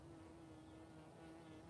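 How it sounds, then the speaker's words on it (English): A bee buzzes close by in a steady, unbroken drone that holds at an even level throughout, with no talking over it. "this bee is distracting."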